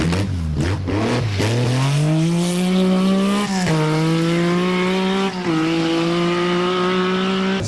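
A Lancia Stratos rally car driven by Alén at the RAC rally screams loudly as its engine revs up through rising gear pulls, with sharp shifts and sustained high-pitched howling, close by and alone.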